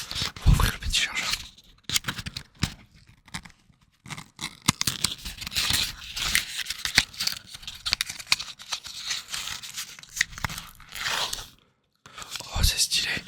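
Close, crinkly crunching and tearing as the packaging around a smartwatch charger is opened, dense bursts of plastic and paper rustle with short pauses, recorded intimately in an ASMR unboxing with soft talk.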